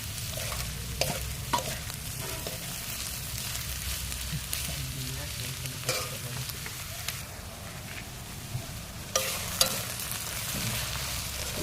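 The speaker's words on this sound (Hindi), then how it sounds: "प्याज इधर में भुजाएगा। इसको भूनते रहेंगे 10 मिनट तक।" Onions fry in a pan with a steady low sizzle, broken by repeated scraping stirs at irregular intervals, all fairly quiet and close.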